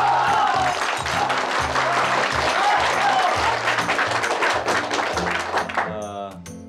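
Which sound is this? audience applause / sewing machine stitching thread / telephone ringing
audience applause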